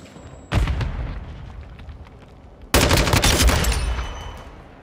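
A Semtex grenade in Call of Duty: Modern Warfare II lands and detonates: one sharp blast that rings out and fades, followed a couple of seconds later by a second, louder explosion with a long rumbling tail.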